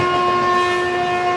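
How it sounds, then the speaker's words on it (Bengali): A passing passenger train sounds its horn in one loud, steady, sustained blast that holds throughout, close by with a faint rumble beneath. "ওদিক দিয়ে একটা প্যাসেঞ্জার ট্রেন ক্রস করছে"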